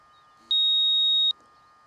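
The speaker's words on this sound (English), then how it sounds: "And I really don't like that beeping when it hits 40." A single sharp electronic warning beep from an Eachine Novice-IV FPV drone during GPS rescue, lasting under a second, clean and isolated against quiet background hiss.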